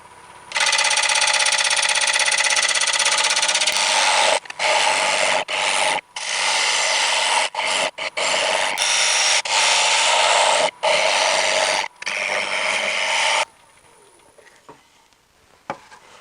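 A wooden bowl spinning on a lathe at about 950 RPM while a turning tool cuts it, making loud continuous rasping bursts broken by short pauses before the noise stops near the end, with no talk.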